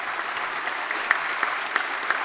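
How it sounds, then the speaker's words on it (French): An audience at a hospital pharmacy conference applauds, a steady patter of many hands clapping with a few louder individual claps standing out, continuous and moderately close. "moi je propose qu'on les applaudisse"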